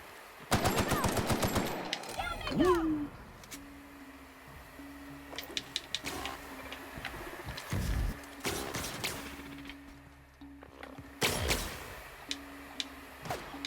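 Gunfire in The Outer Worlds, including shotgun blasts, with a rapid burst of shots at the start, then scattered single blasts and impacts over game sounds and some talk.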